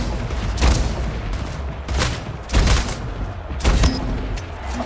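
Repeated gunshots ring out in the video game Splitgate, several loud sharp bursts at irregular intervals over a dense, steady background of game noise.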